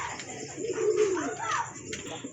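Pigeons coo softly in low, rolling phrases, one longer call in the middle followed by another, with a faint voice talking in the background.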